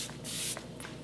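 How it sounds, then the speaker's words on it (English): Long-wear setting spray mists onto a face in one steady hissing burst near the middle, preceded and followed by faint soft rustles, close and clear with no talking. "So I'm gonna do 2 layers of setting spray."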